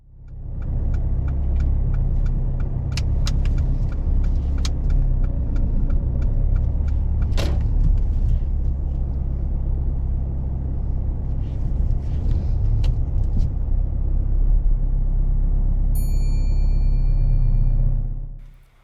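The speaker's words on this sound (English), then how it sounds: "While reversing into the space, Lauren does get a minor fault" A car reverses slowly into a parking space during a driving test, heard from inside as a constant low engine rumble and road hum with a few faint clicks and a brief tone near the end.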